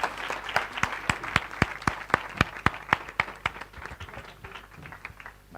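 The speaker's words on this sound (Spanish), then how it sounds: "Un aplauso para las personas que nos acompañan." Audience applause after a panel session at a food allergen conference, a rhythmic run of sharp, fairly close claps that thins out and fades toward the end, with no talk.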